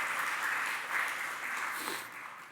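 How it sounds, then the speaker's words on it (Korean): A church congregation at a Sunday worship service bursts into warm, sustained clapping to welcome a visiting deacon. The applause is fairly close and fills the room evenly for a couple of seconds before easing slightly. "우리 박수로 환영하겠습니다."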